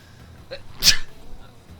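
A single short sneeze, fairly soft and slightly distant, in an otherwise quiet room.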